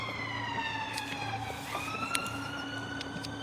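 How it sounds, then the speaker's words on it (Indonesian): An ambulance siren wails on a road through a residential area, its sweeping tone rising and falling over a steady background hum, clear and moderately close throughout. "Sirene itu"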